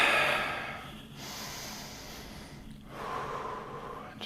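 After a handstand hold, a person takes deep, heavy breaths close to the microphone, with a few strong, snorting inhale and exhale cycles.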